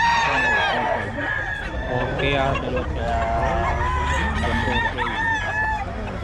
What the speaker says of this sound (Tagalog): Mga manok yun.